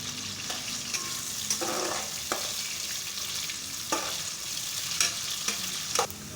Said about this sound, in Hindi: इसको अच्छी तरह से तेल ब्राउन कर लेंगे।